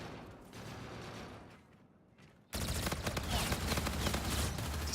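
Butcher gun fired in shotgun mode in the shooter game Infinite Warfare: a muffled lull, then from mid-clip a sudden dense burst of loud, close gunfire blasts that keeps roaring to the end.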